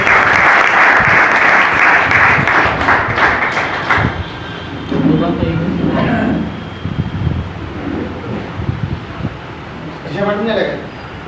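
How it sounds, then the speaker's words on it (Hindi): Loud applause fills a crowded hall at a company event for a marketing firm, dense clapping for the first four seconds, then thinning out as speech over a PA takes over. "एक बार जोरदार तालियां"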